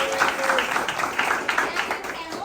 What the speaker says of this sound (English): So please give a round of applause for Laurice, our show producer,